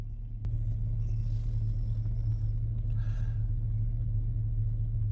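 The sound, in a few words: idling engine of a 2007 Chevy crew cab truck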